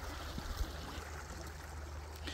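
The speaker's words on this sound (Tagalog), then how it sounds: "Ang lakas ng agos ng tubig." Strong current of stream water rushing outdoors, a steady close gurgling wash with a low rumble underneath, no voices.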